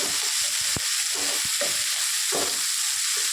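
A large batch of chopped onions fries in a pan for a chicken curry, a constant loud sizzle and hiss broken by scraping stirs and occasional knocks, with no talking.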